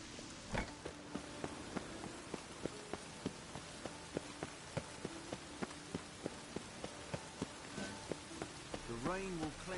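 Rain falls on the city streets in The Witcher 3, a steady hiss of patter under regular footsteps, with a faint voice near the end.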